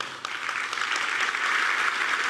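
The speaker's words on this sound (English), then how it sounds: "I don't know if that applause means they want" A large audience at a Batman comics panel breaks into sustained applause, a dense, even wash of many hands clapping that holds steady and grows slightly fuller toward the end.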